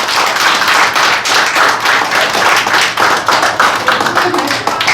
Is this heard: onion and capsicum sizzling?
no